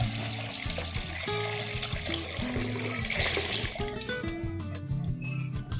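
Water pouring into a pan while preparing air fryer lechon manok, a steady splashing stream over background music, loud and continuous throughout.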